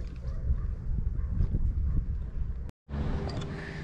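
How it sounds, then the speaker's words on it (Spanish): Hooves of a goat walking on a rough hillside trail, a steady clip-clop of uneven steps close by, broken by a brief dropout before the outdoor ambience returns. "Yo creo que es una cabra."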